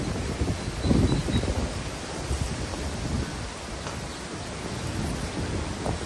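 Steady heavy rain pouring down during a storm in Dubai, a dense continuous hiss with low rumbling underneath, loudest near the start and otherwise even throughout.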